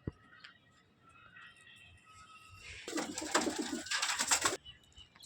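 Kalshira pigeons coo in a small loft, with faint soft calls at first and then a dense, louder burst of cooing and fluttering bird sounds close by for a couple of seconds before it eases off.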